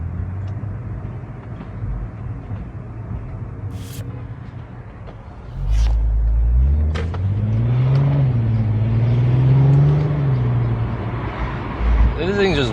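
A Nissan R32 driving through Manhattan city streets toward Brooklyn, its engine warbling and rising as it pulls away, with a low rumble and traffic noise around it.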